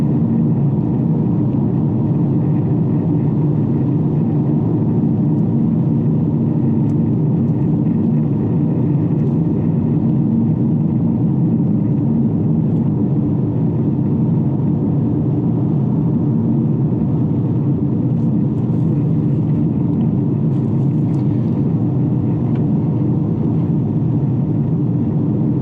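A 2019 Volkswagen Jetta GLI cruises along a smooth road, with a steady low engine and tyre rumble droning continuously from inside the cabin, even and unbroken, with no talking.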